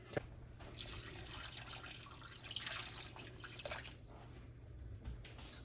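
Running water pours steadily into a big pot of potatoes, a continuous splashing rush with some dripping, no talk.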